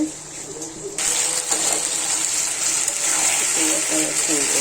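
Water pouring into a pot of spiced mutton curry, a continuous gushing splash that begins abruptly and runs steadily to the end, with faint voice-like sounds in the background.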